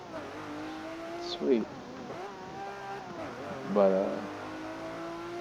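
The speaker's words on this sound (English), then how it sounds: "there's something about the sound of this car, the Murcy, that just sounds so good" Lamborghini Murcielago SV V12 running with a steady engine drone and harmonic tone, rising in two short revving bursts around the middle and later, with people talking briefly over it inside the car.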